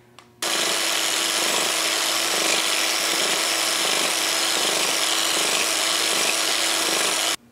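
Hand scraping of a metal lathe carriage with a scraper during a Lion lathe restoration, a steady continuous rasping scrape held close and loud for about seven seconds without pause.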